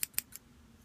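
A pair of scissors used while tucking a vape coil wick against a rebuildable deck snips out three quick, close, crisp clicks in the first half-second, followed by quiet.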